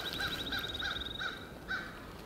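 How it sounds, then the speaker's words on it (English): Wild turkeys calling during a hunt, a few faint rapid rattling bursts spaced through the moment, heard from some distance in quiet woods. "That there's separate turkeys, one is close."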